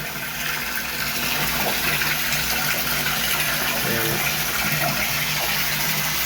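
Water gushing steadily into a fish tank holding giant gourami, a loud continuous pour with a low pump-like rumble underneath.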